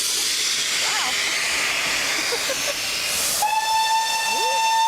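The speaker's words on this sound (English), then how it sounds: "this is the engine coming in" A steam locomotive on a line in East Sussex hisses loudly as it arrives, then lets out a long, steady whistle blast, with a few birds chirping in the background.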